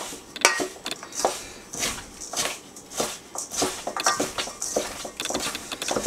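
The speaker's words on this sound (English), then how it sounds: "Now you want to fully incorporate this butter into your mixture." Butter being worked into dry scone ingredients for banana nut scones in a mixing bowl, a series of soft scraping and clinking strokes of utensil against bowl, close and irregular, with no talking.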